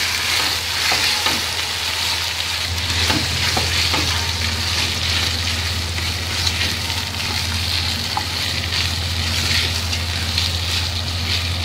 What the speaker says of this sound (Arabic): هقلب الرز كويس كده مع كل اللي احنا حطيناه ده